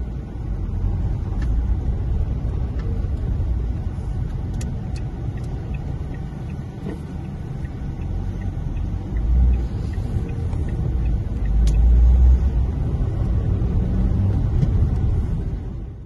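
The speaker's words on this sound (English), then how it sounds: "we're in a little affordable Ford Fiesta, so we're off for a little test drive" A 2007 Ford Fiesta 1.2 Zetec rumbles along on a wet afternoon test drive, with a low, steady engine and road drone heard from inside the cabin and occasional swells as it picks up speed.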